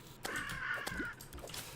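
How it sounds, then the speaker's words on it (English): Crow caws play in Terraria when the player character takes a hit: a few harsh, faint cawing calls in quick succession over a quiet game background. "How are we liking the crow noises, by the way? Every time I get hit."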